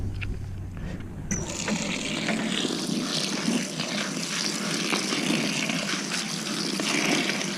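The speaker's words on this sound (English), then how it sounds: "Let's mix up our bait here. Our chum. Got to add a little agua." Water pours steadily into fishing bait chum for mullet being mixed, a continuous close rushing splash that starts after a brief quiet moment and keeps going without pause.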